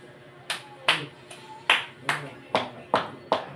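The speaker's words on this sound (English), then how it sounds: "let's give them a 5 claps and 5 stomp" A classroom of students gives a rhythmic cheer of claps and stomps for a presenting group, with about eight sharp, evenly spaced hits close by.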